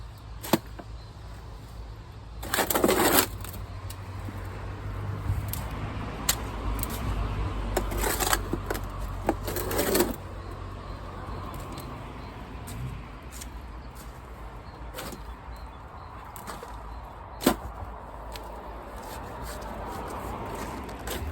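Compost and sieved wood chip being mixed with a shovel in a wheelbarrow, with repeated gritty scrapes and thuds of the blade, a few louder scoops and occasional sharp knocks, close by.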